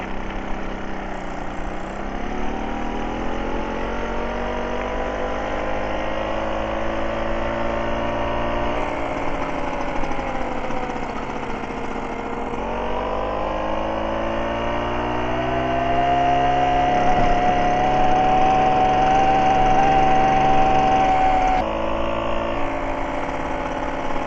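A Solex 5000 moped's small engine idles steadily and close up while the choke is gradually eased off, its pitch sliding and wavering before settling into a steadier, slightly louder hum with a thin whine.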